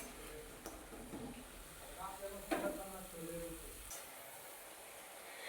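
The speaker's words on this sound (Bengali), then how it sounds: "এরকমভাবে আমি ছোট ছোট গোল গোল করে ভেজে নিচ্ছি" Small round jalebi spirals sizzle and crackle in hot frying oil, a steady low hiss with occasional bubbling bursts, close by, with faint voices in the background.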